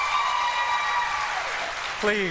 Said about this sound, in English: Please, audience, please. No applause.